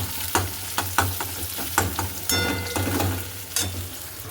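Chopped onion and two whole green chilies fry in a pan, a loud close sizzle with regular clattering stirs and scrapes of a spatula, heard alone.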